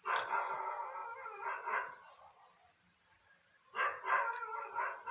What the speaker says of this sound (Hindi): शायद कुछ देख लिया होगा कुत्ते ने, इसलिए भौंक रहा है।